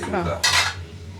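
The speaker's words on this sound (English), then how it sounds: "Use that frying pan here." Metal cookware and dishes clatter close by, a brief scrape followed by a sharp ringing clank that fades quickly.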